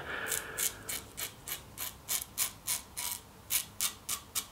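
Rhythmic rasping scrapes repeat about every third of a second, close and crisp, as a Parker 65R safety razor drags through whisker stubble with each stroke.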